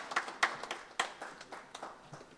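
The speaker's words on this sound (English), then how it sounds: "Please give him a huge round of applause." A panel discussion audience on medical technology gives scattered, fairly faint applause, with distinct individual claps spaced unevenly across a couple of seconds.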